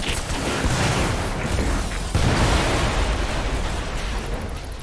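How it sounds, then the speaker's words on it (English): Dense, roaring explosions and booms rumble continuously in the VR video game Stormland, loud and overlapping with a sharp fresh blast partway through before slowly easing off. "Alright, that was a lot of booms."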